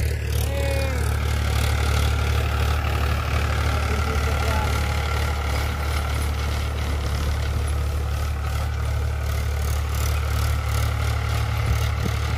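A Powertrac 439 Supermaxx tractor engine runs steadily nearby, a loud continuous low diesel drone with a constant throb and no pauses.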